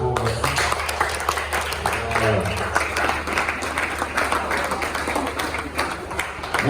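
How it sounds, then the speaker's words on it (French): Sustained applause from a crowd at a book launch in the DR Congo, dense clapping that carries steadily throughout. "On peut l'applaudir très fort."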